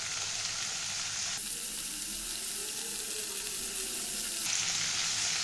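Spice paste with turmeric sizzles steadily in a pan while cooking a Bengali tangra fish curry, a close, constant frying hiss that swells louder in the middle and continues throughout.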